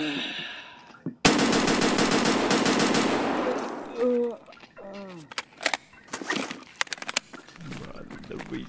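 A Lapua Mk-18 rifle fires in Escape From Tarkov as a sudden loud burst, followed by a scatter of sharp, irregular clicks and clanks, with brief vocal sounds among them.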